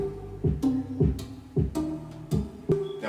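Kick drum in an EDM trap beat, booming low thumps at a steady pace of roughly two per second, each with a sliding pitch drop, under a sustained tonal layer, no talking.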